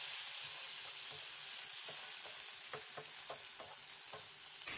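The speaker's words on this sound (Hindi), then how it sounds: "दो स्पून हम इसमें लहसुन और अदरक का पेस्ट शामिल करेंगे ताकि ये भी अच्छे से साथ फ्राई हो जाए" Golden onions and tomatoes frying in a pan, a steady hissing sizzle with light stirring scrapes and soft pops scattered through, close and without voices.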